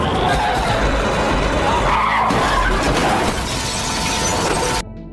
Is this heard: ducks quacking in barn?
no